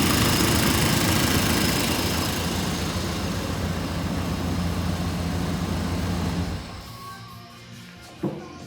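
A running 1987 Chevrolet Suburban engine with basic fuel injection idles loud and steady, its injectors ticking within the drone, before the engine note drops lower near the end.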